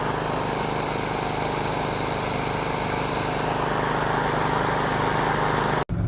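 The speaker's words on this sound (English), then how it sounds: "The lawnmower is running, and we just want to knock down all that brush along the side" A homemade brush cutter driven by a New Holland Boomer 45 tractor runs with a loud, steady mechanical drone and close engine noise, cutting brush around a pond edge, then stops abruptly at the end.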